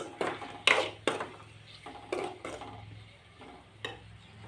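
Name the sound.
stirring chicken curry mixture with salt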